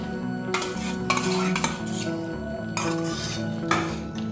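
A spoon scrapes and clanks against a pot while mutton curry is stirred together with whisked sour yogurt, in steady, close stirring strokes with a few sharper knocks.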